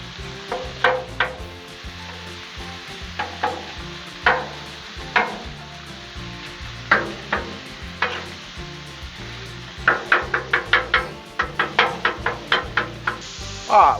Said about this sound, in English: Get our chorizo going. Just kind of break it up.